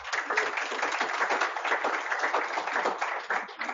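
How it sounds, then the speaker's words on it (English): An audience at a credit union annual meeting gives a dense round of applause, many hands clapping steadily and fairly close for several seconds with no talk. "So please give yourself a round of applause."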